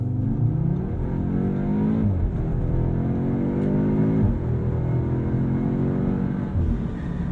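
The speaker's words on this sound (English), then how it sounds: "And now power through the corner." A 2022 Audi S3 accelerates hard out of a corner, its engine note climbing through repeated rising sweeps with gear changes, loud and close from inside the cabin, with no talking.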